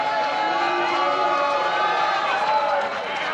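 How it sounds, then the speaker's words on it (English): Crowd noise from the audience at a Pennsylvania Republican governor candidate forum, a steady mix of cheering and booing voices filling the room at close range, continuous and fairly loud throughout. "I hear some cheering and I also hear some booing"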